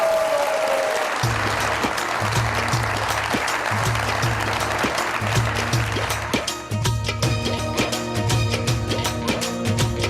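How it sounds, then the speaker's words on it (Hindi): A studio audience at an Eid special television broadcast claps for a folk singer's entrance as music with a steady, thumping beat starts and carries on under the applause. "भरपूर तालियां होनी चाहिए"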